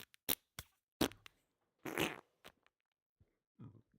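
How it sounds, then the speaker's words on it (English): A string of short, wet fart sound effects, several brief pops and a longer sputtering blast, loud and close against silence. "It's amazing we made it 28 episodes without a fart noise."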